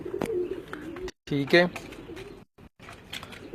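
Pigeons cooing at close range during pigeon care: a few soft, throaty coo phrases stand out around the middle, with someone speaking briefly and background chatter between them.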